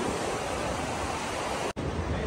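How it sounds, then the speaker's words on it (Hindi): Fast-flowing river water rushes beneath a shaky makeshift bridge near the Nepal border, a loud, steady broadband roar with one brief dropout. "कितनी तेज पानी चल रहा है नीचे"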